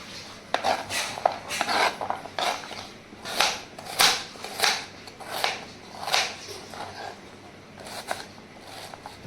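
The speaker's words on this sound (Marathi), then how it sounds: "कांदा कापण्याचं काम चालू इकडे." A knife chops onion on a board in a village kitchen, a close series of sharp rhythmic strokes about every half second, with soft rustling between them.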